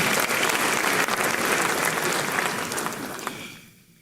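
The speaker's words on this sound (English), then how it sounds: "Shall we appreciate him with a big round of applause?" Hall audience at a law school honorific lecture gives a big round of applause, loud dense clapping that holds for about three seconds and then fades away.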